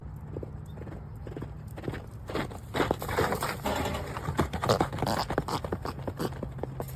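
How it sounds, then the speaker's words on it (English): A horse's hooves clip-clop in a quick, uneven rhythm, close and fairly loud, over a low steady hum, with no talking. "Have you ever seen a horse that's equipped with turbo?"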